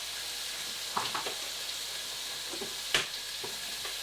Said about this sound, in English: so now I'm going to add the chicken livers. So in they go.